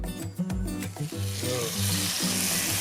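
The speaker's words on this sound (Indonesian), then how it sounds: "Kita sekarang panggang." Chicken grilling with oil and a little mustard gives a loud, steady sizzle and crackle, with scraping and shifting noises from the pan throughout.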